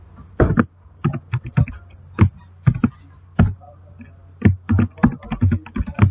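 Keystrokes on a computer keyboard while entering a name and address into an envelope in Microsoft Word, irregular bursts of close, crisp clicks separated by short pauses, no voices.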